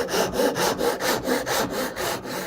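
A hand saw cuts wood for a dovetail joint in traditional Korean furniture joinery, with close, steady back-and-forth rasping strokes in an even rhythm of about four per second, with no talking.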